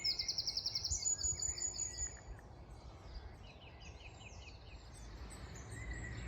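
Wild birds calling near bird boxes on a wildflower farm, a rapid repeated high chirping phrase at first, then softer scattered calls over a breezy outdoor background.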